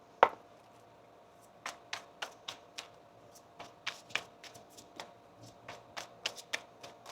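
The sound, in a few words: shuffling tarot cards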